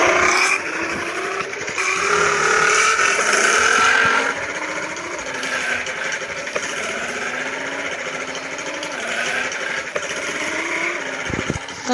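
A battered, beat-up motorbike engine running steadily, a loud continuous drone with slight rises and falls in pitch, up close and with no voices over it.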